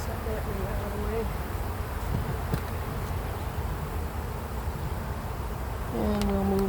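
Honeybees drone around an open hive in a steady, dense buzz close to the listener, with a louder pitched buzz passing near at the start and again at the end.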